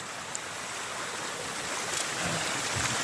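Stream water flows in a steady, broad rush outdoors near an island, with faint wind buffeting the microphone.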